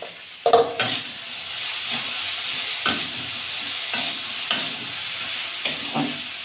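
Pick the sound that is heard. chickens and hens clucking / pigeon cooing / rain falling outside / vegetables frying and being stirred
vegetables frying and being stirred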